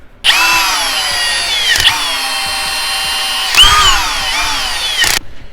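A cordless power drill drives screws while a speaker is mounted into the rear door of a Ford Transit van. Several loud, close, whining bursts come in succession, each with a brief pause between them.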